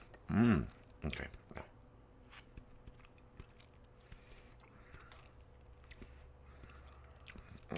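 Someone bites into a caramel green apple Oreo cookie, one loud close crunchy bite followed by a few quieter chewing sounds over a low steady room hum.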